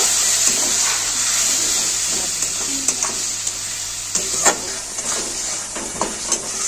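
A spice paste with chopped tomato and a splash of water is stir-fried in a pan for potato curry, giving a loud continuous sizzle with scattered spoon scrapes and taps, nearby and unaccompanied by talk.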